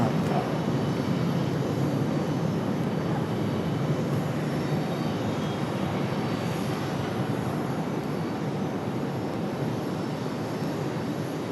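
An airliner's engines run up at Raleigh-Durham International Airport, a loud, continuous broadband roar that stays steady and sustained for the whole stretch, with no voices.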